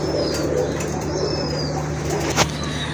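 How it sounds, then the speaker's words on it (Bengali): Racer pigeons kept for sale coo softly at close range, with a brief flutter of wings near the end and a steady low hum underneath. "আরেক জোড়া রেসার কবুতর আছে এখানে মাশাআল্লাহ"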